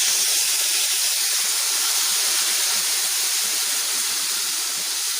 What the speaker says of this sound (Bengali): আমি এবার এর মধ্যে দিয়ে দেবো মশলার পেস্টটা।